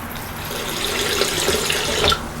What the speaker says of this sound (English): we'll get some cold water going in the basin here